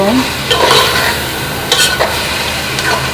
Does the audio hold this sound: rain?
no